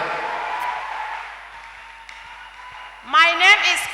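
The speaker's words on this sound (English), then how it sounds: "Give Jesus a clap offering." A church congregation claps for Jesus as a clap offering, a dense wash of applause that fades over the first seconds before a single voice rises near the end.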